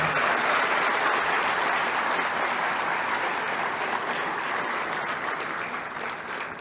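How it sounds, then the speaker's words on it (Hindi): Dense, steady applause from a large audience at a live event with the Uttar Pradesh Chief Minister, honouring students of a departmental ITI; a continuous wash of clapping holds throughout and eases slightly near the end, with no speech. "आपकी दोहरी तालियां अपेक्षित हैं।"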